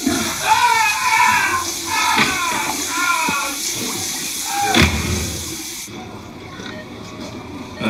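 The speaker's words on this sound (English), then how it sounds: "No, boy, don't flush it." A toilet flushes in a sitcom home bathroom, a rushing watery hiss that runs for several seconds while voices talk over it, then fades toward a quieter tail.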